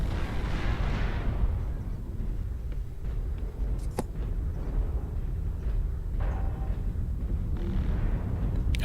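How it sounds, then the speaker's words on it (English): An artillery strike lands in MechWarrior Online as a dense, continuous low rumble of blasts, with one sharper crack partway through, all loud and heavy with no talk over it. "Artillery strike online"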